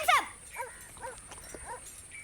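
A dog barks a few times in short, separate yelps from somewhere in a rural yard, fairly close and moderately loud over a quiet background.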